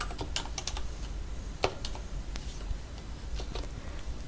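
Keyboard typing while entering text in Photoshop CC 2021, a run of light, irregular key clicks with a few sharper taps, fairly close over a quiet background.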